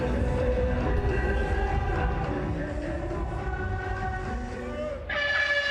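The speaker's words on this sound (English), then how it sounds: "Hooter goes and Craig sets off" A loud, sustained, tonal hooter sounds at a field hockey match between Tamil Nadu Dragons and Hyderabad Toofans before a penalty shootout attempt. It holds steadily over crowd noise and briefly dips before resuming.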